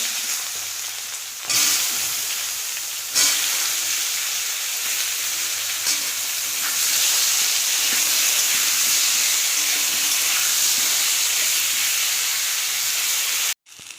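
Eggplant, potato and flat beans hit hot oil seasoned with five-spice seeds, giving a loud, continuous sizzle and hiss, with stirring scrapes and a few abrupt surges as the pan is worked. The sound cuts off sharply at the end.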